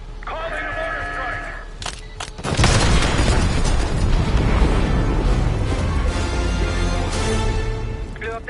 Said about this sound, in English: Blew up their Scud and there's no one left to care.